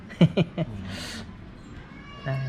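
A cat meows a few short times near the start and once more near the end, with a quiet stretch between.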